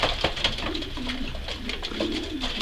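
Pigeons in a loft coo repeatedly and close by, with soft overlapping calls and faint rustling throughout.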